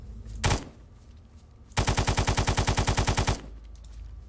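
Gunfire in DayZ: a single loud shot, then after a pause a rapid automatic burst of about fifteen evenly spaced shots, close and punchy.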